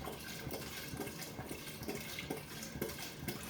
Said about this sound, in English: you pour the vodka or Everclear in there.